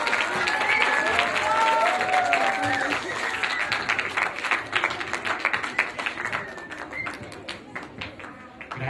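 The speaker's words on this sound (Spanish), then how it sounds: "Vamos a recibirlo con un fuerte aplauso." Applause from a school audience welcoming a visiting children's author, sustained clapping that slowly thins over several seconds, with children's voices and chatter mixed in.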